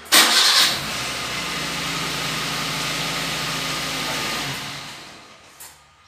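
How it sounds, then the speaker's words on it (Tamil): A car engine cranks and catches with a loud initial burst, then settles into a steady idle hum for several seconds before cutting off and fading, with no talking. "engine start ஆகிறப்ப"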